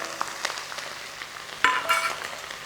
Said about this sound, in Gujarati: અને થોડીક વાર માટે મરચાંને આપણે સાંતળવા દઈશું